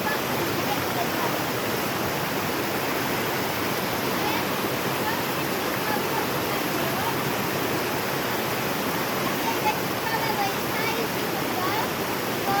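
A waterfall and river near Sedbergh pour out a steady, dense roar of rushing water, loud and close, with no change in level throughout.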